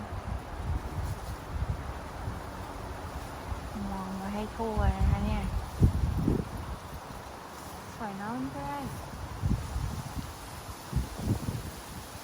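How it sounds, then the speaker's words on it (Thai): Strong wind rustles the leaves beneath a maple tree after rain, a continuous gusty hiss and flutter with someone talking over it in places. "ใต้ต้นเมเปิลนะคะก็ลมแรงมากเลย"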